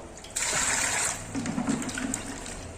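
Water pours into a pressure cooker while mutton is prepared for an Arabic mutton koozi. A steady, fairly loud gush runs for about a second, then gives way to a lower, gurgling fill as the level rises.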